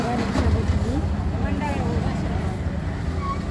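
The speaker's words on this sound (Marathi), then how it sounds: "ते बघा रिक्षा भेटली" An auto rickshaw on a road, its low engine rumble and traffic noise steady and fairly close, with voices talking over it.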